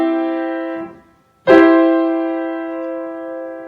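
A triad in first inversion rings out on a sustained, keyboard-like instrument: a softer chord fades, then a brief gap, then a loud sharp attack that holds and slowly decays, alone with no talking.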